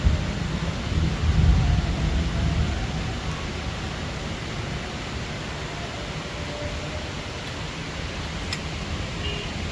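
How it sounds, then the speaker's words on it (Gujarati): Heavy rain pours steadily outside as a broad, dense roar, with low thunder rumbling loudest in the first few seconds before settling into a constant downpour. "ગાજે બી જોરદાર છે"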